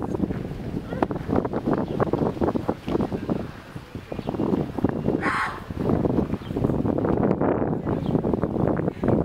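Gusty outdoor wind buffets the microphone in rough, uneven rushes throughout, loud and continuous, with faint voice-like sounds mixed into the noise.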